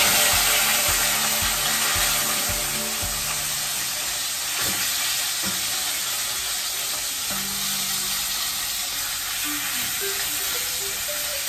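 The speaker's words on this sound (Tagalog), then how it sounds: "Babrown ko po muna ang ating pork. Kailangan high heat." Pork browns in a pan over high heat for Filipino adobong puti, a loud, continuous sizzle and hiss with a few utensil clanks and stirring scrapes near the start.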